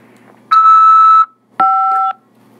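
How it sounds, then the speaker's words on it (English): Two loud electronic tones from a prison inmate phone call system, each about half a second to 0.7 seconds long, separated by a short gap and alone over faint line hiss. "After the beep, press 5 to accept this call."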